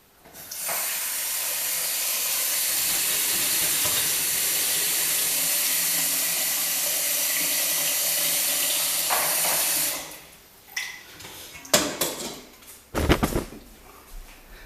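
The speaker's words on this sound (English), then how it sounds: "We're now going to fill that up with water." Tap water gushes steadily into a pot for about ten seconds, a loud broadband hiss, followed by a few clunks and knocks.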